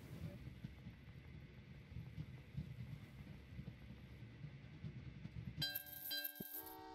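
Train running on rails in the Train Valley 2 video game, a low continuous rumble and clatter that ends with a bright chiming game tone near the close.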